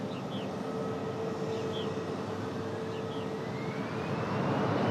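A Republic Airways airliner in house livery rumbles at RDU, Raleigh-Durham International Airport, as a steady broad engine roar that swells slightly toward the end, with a few faint bird chirps.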